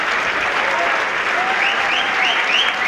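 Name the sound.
applause for the music school teachers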